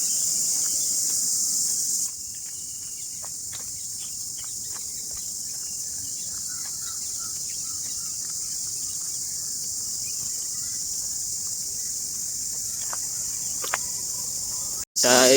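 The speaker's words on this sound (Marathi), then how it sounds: "आमच्या मागे तर तुम्ही रातकिड्यांचा आवाज ऐका." Crickets chirp in Aarey forest, Mumbai, as a steady, continuous high-pitched trill that fills the whole stretch, with a few faint ticks and a brief knock near the end.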